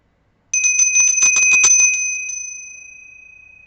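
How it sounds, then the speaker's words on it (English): A single bell struck once, its bright sustained tone ringing clearly with shimmering pulses before slowly fading away into silence. "I'm going to ring the bell."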